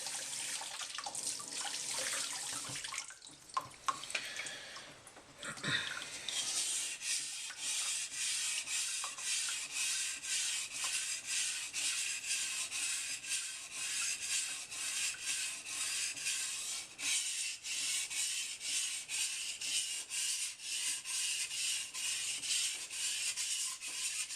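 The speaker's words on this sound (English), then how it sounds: "now we're going to go back and sharpen the knife." A Moritaka kitchen knife is rubbed on a wet whetstone in steady, rhythmic back-and-forth strokes after a brief pause and some handling, close and continuous.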